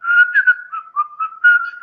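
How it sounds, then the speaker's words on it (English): A person whistles a short wavering melody alone, with a clear, steady tone broken into quick phrases, close and fairly loud. "Of course I can whistle."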